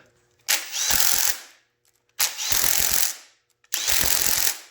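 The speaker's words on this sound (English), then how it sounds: "Should you be doing that with an impact?" An impact wrench hammers on LS engine cylinder head bolts in three loud, close bursts of rapid rattling, each lasting about a second, separated by short pauses.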